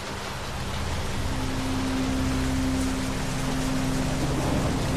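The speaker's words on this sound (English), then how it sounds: "It's raining a lot here." Steady heavy rain pours down in The Walking Dead video game, a dense continuous hiss with a low hum running underneath, with no talking.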